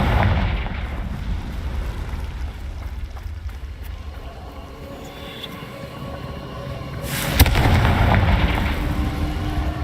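A Confringo fire spell bursts in Hogwarts Legacy, a broad rumbling blast that swells suddenly near the end over a steady low ambient game bed, with no talk.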